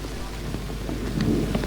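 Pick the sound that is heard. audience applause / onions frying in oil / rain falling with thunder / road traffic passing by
rain falling with thunder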